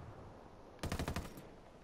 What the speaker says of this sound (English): Nice shots, Enforcer